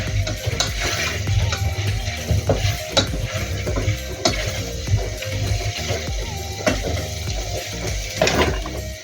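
Chicken wings sautéing dry in a pan with no oil, loud close sizzling under repeated scraping and stirring of a utensil against the pan, irregular clatters throughout.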